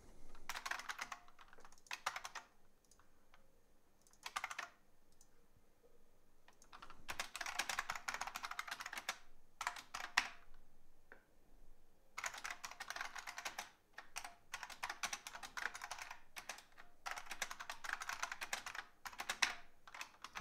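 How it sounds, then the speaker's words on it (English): Rapid keyboard typing on a computer during a programming session, clattering in bursts of quick keystrokes separated by short pauses, close and clear with no talking. "I'm really having a bad time typing today."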